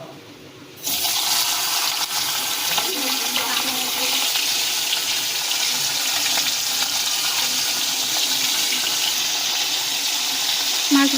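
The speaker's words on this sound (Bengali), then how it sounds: "ইলিশ মাছের মাথাটাকে ভেজে নেব দেখো বন্ধুরা তেলটা গরম হয়ে গেছে এবার আমি মাথাটা দিয়ে দেবো" A sudden loud sizzle erupts as a hilsa fish head hits hot oil, then continues as a steady, close crackling fry for the rest of the clip.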